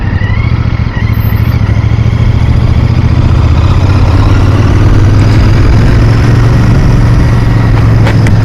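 A Royal Enfield Bear motorcycle rides through rush hour traffic, its loud, steady single-cylinder engine thrum close and constant under heavy wind rush, with no voice.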